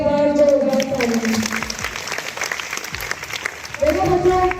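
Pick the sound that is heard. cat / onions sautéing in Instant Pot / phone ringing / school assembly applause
school assembly applause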